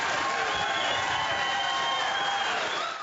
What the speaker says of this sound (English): The crowd was very loud at certain points.